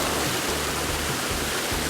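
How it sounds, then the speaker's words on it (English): Small waterfall on a hike between Kingston and Portland, a steady close hiss of falling water, even and unbroken. "caught my glimpse of this little waterfall where I could cool my legs down"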